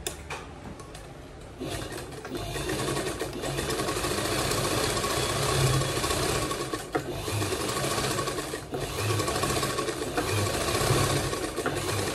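A sewing machine stitches the neckline of a girl's long gown with a 1.5-inch margin, humming and clattering steadily up close, with the motor picking up speed after a softer opening and running continuously to the end.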